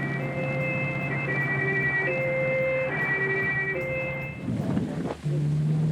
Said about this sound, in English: Ambulances came from all over the city.